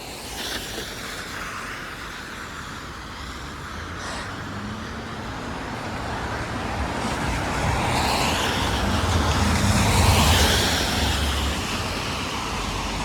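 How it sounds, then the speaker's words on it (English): Cars pass along a busy city street in North York, Toronto: a steady traffic roar swelling as vehicles approach and sweep by, loud and close, with a continuous wash of tyre and engine noise. "Gives me a brace so I don't get kind of like splashed by these cars here."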